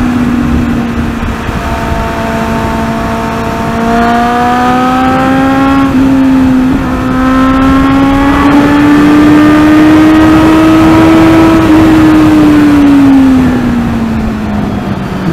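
A Kawasaki Z800, a heavy 100-plus horsepower motorcycle, pulls hard through first gear on a highway, its engine note climbing steadily in pitch over a loud, continuous roar of wind, heard close up without any talking.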